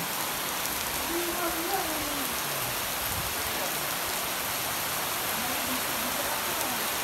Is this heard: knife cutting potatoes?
no